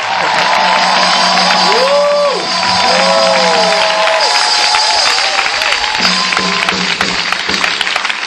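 A church congregation acclaims with steady applause and cheering through a worship service, a broad crowd roar with sung or shouted voices rising over it, continuous from start to finish.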